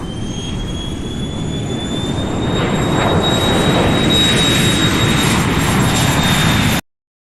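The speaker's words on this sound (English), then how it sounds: "I love the sound of an aircraft taking off." Jet aircraft taking off, a loud, steady roar with a high whining engine tone that builds slightly and holds, heard alone without talk before cutting off abruptly.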